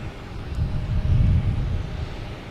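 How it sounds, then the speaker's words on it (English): An airliner comes in to land at Boston Logan Airport, a low, broad engine rumble that swells to a peak midway and then eases slightly, heard from a distance with no talking. "But I won't do it until after this plane lands."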